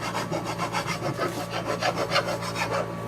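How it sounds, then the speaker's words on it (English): A wooden cleaver handle is filed and sanded, a steady rhythmic rasping of back-and-forth strokes, close and moderately loud, with no talking. "I'm gonna just sand down, file down with some of them."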